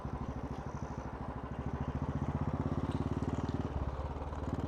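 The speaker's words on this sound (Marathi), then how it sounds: "आज थोडा बाईक घेऊन निघूया." A motorcycle engine runs with a steady, rapid low putter, fairly close and even in rhythm, with no voices over it.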